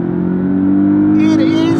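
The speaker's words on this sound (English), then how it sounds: "It gives you the pure sports car noise that you need" A Porsche 718 Cayman sports car engine holds a steady, loud, close-up drone that swells slightly toward the end.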